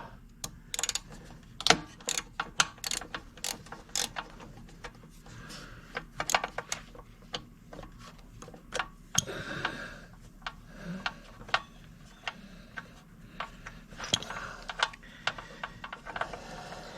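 During engine removal on a Honda Helix scooter, a bolt is worked loose with a ratchet, giving irregular sharp metallic clicks and taps scattered over a quiet background.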